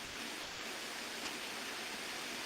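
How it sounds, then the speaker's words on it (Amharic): Heavy rain falls in a constant, even wash of hiss, fairly faint and unbroken, with no voices over it. "ይሰማል በል ዝናብ እኔ ጋር በጣም እየጣለ ነው"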